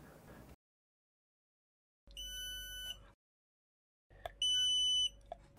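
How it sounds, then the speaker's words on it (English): An SWR and power meter's electronic warning beep, triggered when SWR exceeds 3 during transmission, sounds twice, each a steady tone lasting about a second, separated by silence, the second louder and harsher. "when the value of the SWR reaches over 3, there will be a warning beep to let you know"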